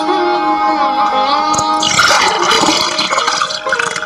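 Water sloshes and gurgles loudly and continuously at a riverbank, as if an animal is drinking, with a bright, splashy churning that swells midway and then settles into uneven trickling.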